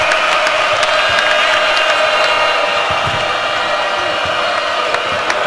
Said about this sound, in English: You've heard this crowd get behind.